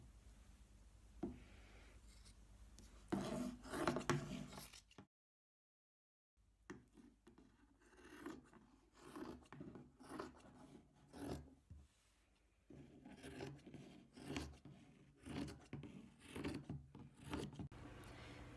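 Scissors cut through fabric for a kid-size body pillow, making soft, close rasping snips and rustles in uneven bursts, with one brief silent gap partway through.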